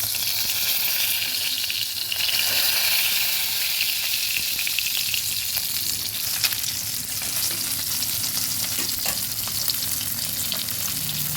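Koi fish fry in hot oil with a loud, constant sizzle and crackle close by. The spatter flickers through it steadily, and nobody speaks.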